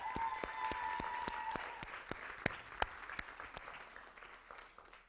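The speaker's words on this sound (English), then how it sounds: "A round of applause once again," Applause from an audience at a TEDx event, steady and moderately distant, with a few sharp individual claps standing out as it tapers off; a faint sustained tone sits underneath at the start.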